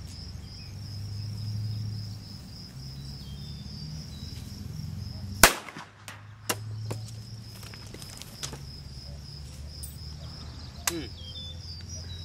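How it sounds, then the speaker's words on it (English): A cracker gun fires at an egg with one sharp loud crack midway, followed by a few smaller knocks, all over a quiet outdoor hum with crickets chirping. "Got my cracker gun. I got an egg. Let's break it."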